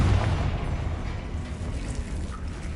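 A Confringo spell explosion in Hogwarts Legacy lands as a deep, rumbling boom that hits hardest at the start and then decays into a low, steady roar.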